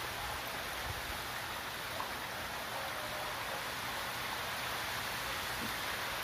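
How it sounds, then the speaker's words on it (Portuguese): Light rain with wind along the coast of northeastern Brazil, a steady soft hiss of falling drops with no other sounds. "Chuva fina,"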